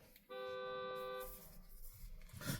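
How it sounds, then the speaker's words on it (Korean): A car horn blares from behind in a single long, steady honk lasting about a second, faint and a little distant, followed by muffled street noise. "지금 뒤에서 차가 빵빵거리고 하네요"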